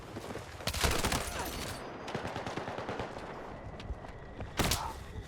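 Battlefield 6 gunfire crackles in bursts: rapid automatic rifle volleys, sharp single shots and a heavy blast near the end, loud and close over a fairly dense battle din.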